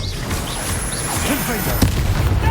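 Spell-casting effects from the video game Hogwarts Legacy, an Expelliarmus spell among them, with booming impacts and magical whooshes over a rumbling background, punctuated by a sharp burst near the end.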